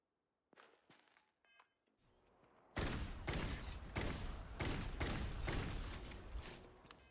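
Weapon fire from the video game Starfield, with a quiet thud or two before a burst of loud, closely spaced shots that fires repeatedly for several seconds.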